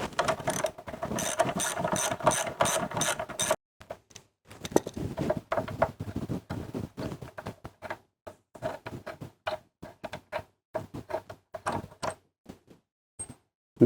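A ratchet clicks away on the front brake caliper bolts of a sportbike, dense rapid pawl clicking at first, then a pause and shorter bursts of quick ticking, close and clear.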